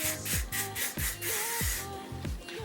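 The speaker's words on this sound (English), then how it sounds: "I'm just going to spray it in the bottoms to give it some shine." Several short bursts of dry conditioner aerosol spray hiss in close succession into hair, close to the mic, with faint handling noise between them.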